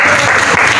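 Fourth-grade students clap together in a classroom, giving a brief, dense burst of applause, loud and close.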